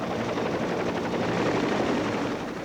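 A military helicopter thrums overhead in a constant rotor chop, dense and loud throughout without a break or any voices.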